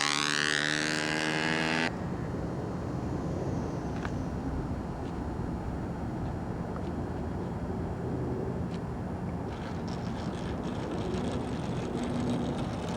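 A Windy U Master 801 Bent Wing Stuka model airplane comes in to land, its engine note high and steady at first, then cutting to a low, continuous drone and rumble that carries on to the end.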